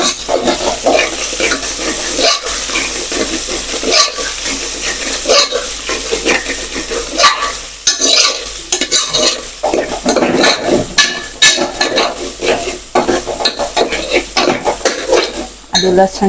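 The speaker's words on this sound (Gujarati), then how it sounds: "પેસ્ટને પણ થોડીક સાંતળાવા દઈશું કારણ કે લસણ સારી રીતે પાકી જાય" Ginger garlic paste being sautéed in a pot, with steady sizzling and frequent metal scraping and clinking of a spoon stirring against the pot, fairly loud and close throughout with no talking.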